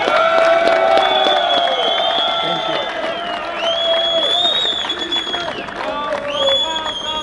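Crowd cheers and applauds at a boxing post-fight press conference for Dmitry Bivol, the new undisputed light heavyweight champion, a steady roar of clapping mixed with shouting voices and whoops throughout.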